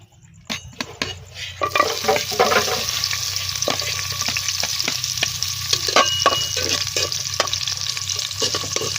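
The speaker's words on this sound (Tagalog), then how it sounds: "magigisa po na po tayo ng sibuyas, bawang at luya" Onion, garlic and ginger sauté in a hot pan with a steady close sizzle, with scattered clinks and scrapes of a utensil stirring against the pan throughout.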